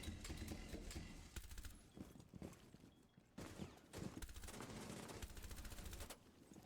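Rapid automatic gunfire from a competitive shooter game rattles in long sprays and short bursts, loud and close, with brief pauses between volleys.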